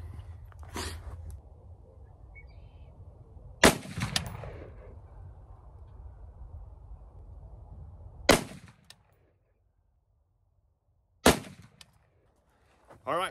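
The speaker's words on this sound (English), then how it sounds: "So anyway, we'll take a few shots." Rifle shots fired while checking the zero of open sights: four sharp, loud cracks spaced several seconds apart, each followed by a short ringing echo outdoors over faint background noise.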